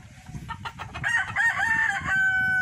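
A rooster crows loudly and close by, a long rising-and-falling call held for over a second, with hens clucking and farmyard noise around it.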